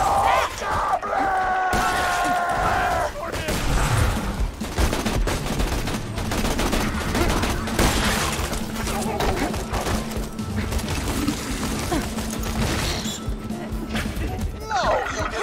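Rapid gunfire in the Borderlands 2 video game, dense bursts and crashes running nearly continuously under shouted character voices and music.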